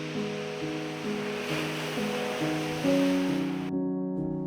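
King tide surf surges onto an elephant seal beach with a continuous broad roar of breaking waves, fairly loud and washing steadily under a layer of music.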